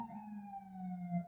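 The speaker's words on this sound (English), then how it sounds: "Don't mind these sirens." Fire department sirens wail from across the street, a steady two-tone siren holding a long, slowly falling pitch and swelling slightly louder near the end.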